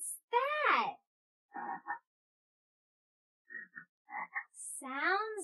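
A person imitates a frog's croak with a series of short, voiced croaking bursts separated by silences, plus longer warbling vocal sounds at the start and end, in a children's nursery-rhyme setting.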